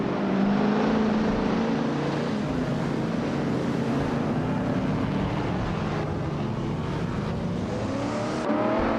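Engines of racing cars, including a classic 1964 Porsche 901, roar steadily at the JS Turbo Short track in a video game race, a continuous loud drone with shifting pitch and no pauses.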